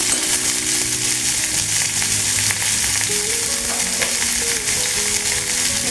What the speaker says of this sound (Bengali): দিয়ে আমগুলো একটু তেলে নাড়াচাড়া করে নেব।